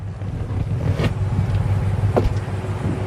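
Idling engine of a 2007 Ford E250 wheelchair conversion van parked with the brake set, a steady low hum heard from inside the cabin with a couple of faint brief clicks and no talking.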